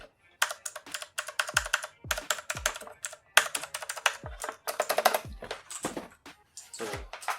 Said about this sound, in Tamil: செம்ம கீ ட்ராவல், செம்ம கீ சவுண்டு.